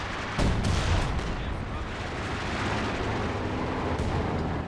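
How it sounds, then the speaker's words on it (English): Artillery fire in Company of Heroes 2 booms near and heavy, with a sharp opening blast followed by dense rumbling battle noise that carries on without a break. "That's my own artillery there"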